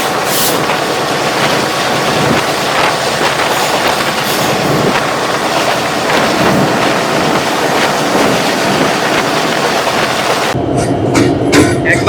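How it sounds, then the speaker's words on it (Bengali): A fast train in hilly country near Srimangal, heard from the front of the locomotive: a loud, continuous rumble and rattling clatter of the wheels with wind buffeting throughout. "খুবই স্পিড ছিল ট্রেনটা"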